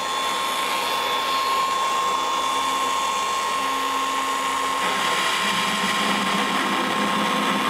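Milwaukee 18V brushless magnetic drill press with a rotor broach cutter, running at its slower 400 RPM setting, gives a steady high whine and grinding hum that holds throughout, close and loud, with no talking.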